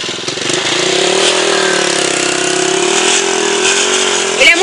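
A motorcycle engine idling up close, a steady loud rumble that holds almost unchanged, with a brief bump at the end.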